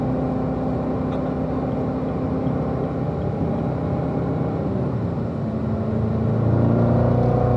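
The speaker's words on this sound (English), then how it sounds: "when I'm in third gear and we step on it, we can go from whatever we were doing, 50, 60 to 107 there, like pretty quick" A car accelerating hard in third gear from about 50 or 60 to 107, a continuous loud engine roar heard from inside the cabin with rising pitch toward the end, no talk.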